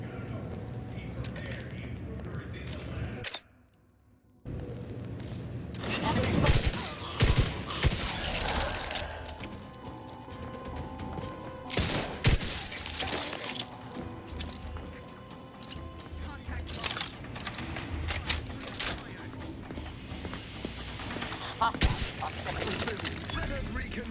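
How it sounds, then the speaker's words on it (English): Plasma grenades and rocket launcher fire against a big robot in The Outer Worlds 2: bursts of blasts and heavy impacts amid busy combat noise, with a voice talking over the action. "we're gonna try out these plasma nades. And I'm gonna get... and then the rocket launcher for the big robot."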